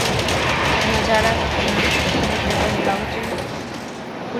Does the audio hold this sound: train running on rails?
yes